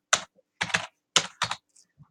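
Fingers type a command on a computer keyboard, giving four quick bursts of soft, close clicks separated by short pauses. Nobody speaks.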